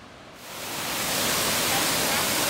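Big waterfall near Hamilton Lake in Sequoia National Park, a dense roaring wash of falling water that swells louder over the first second as it draws close, then holds steady and strong.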